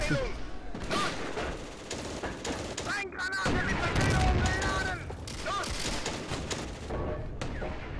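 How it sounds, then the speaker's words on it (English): Tank gun in Steel Fury, Kharkov 1942, firing on an anti-tank gun amid a battle: repeated heavy booms and gunfire crackle throughout, with someone talking over the shots. "Put another shot into that anti-tank gun just to be sure."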